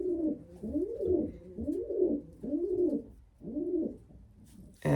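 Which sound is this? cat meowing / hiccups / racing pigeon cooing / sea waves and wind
racing pigeon cooing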